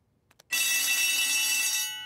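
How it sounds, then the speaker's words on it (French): A school fire alarm bell rings loudly and continuously for well over a second after a couple of faint clicks, then cuts off, leaving a brief fading tail. "Nous avons entendu l'alarme"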